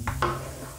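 Beef stroganoff ingredients are tossed in a buttered pan, giving two quick close scraping shuffles over a low steady sizzle.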